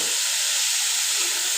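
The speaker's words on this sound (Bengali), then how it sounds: "এই যে কলার মোচাটা দিয়ে দিচ্ছি, দিয়ে ভালো করে ভেজে নিচ্ছি" Chopped banana blossom fries in a pan with a loud, steady, close sizzle and hiss throughout, without talk.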